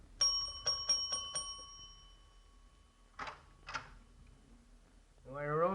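A doorbell at the Westover Hotel in a radio crime drama rings in a quick burst of four bright dings, then after a pause two more, duller strikes, before a voice begins speaking at the end.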